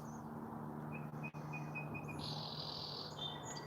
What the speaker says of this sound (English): Birds chirping, little wind chimes going.